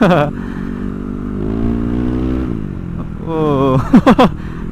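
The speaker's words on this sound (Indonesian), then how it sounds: "Kayak berebet gitu nih motor." A bored-up Yamaha Aerox scooter engine revs hard in two rising pulls, droning rough and throaty, then finishes with a few sharp sputtering pops.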